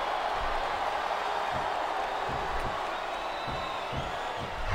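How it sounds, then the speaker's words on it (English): A large wrestling-arena crowd in the video game WWE SmackDown vs. Raw 2007 roaring and chanting in a steady rhythmic beat, distant and continuous. "Wow, listen to that chant"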